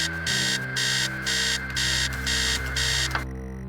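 An alarm clock blares upstairs in the video game Stories Untold, sounding in loud repeated electronic bursts, about six pulses over a steady hum before it abruptly cuts off.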